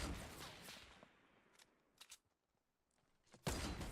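Gunfire in a video game shooter arrives as quick bursts of shots, loud at the start, scattered single cracks in the middle and another heavy burst at the end, all at a faint overall level with no talking.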